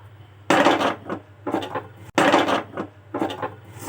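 Metal spoon scraping and knocking in a pan as tamarind, rock salt and turmeric are stirred into sautéed ingredients, a few clustered bursts of clatter with short pauses, close and fairly loud.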